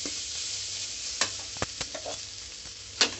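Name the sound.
stirring eggplant rice in a pan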